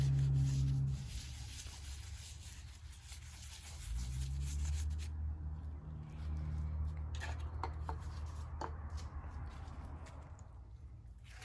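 Hand rubbing oil over a piston skirt during a small-block Chevy 383 engine build, a soft, steady close-up friction rustle that continues for several seconds with no talking.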